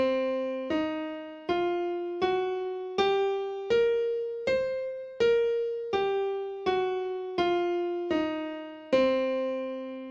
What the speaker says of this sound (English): So a C blues scale sounds like this, going up and down.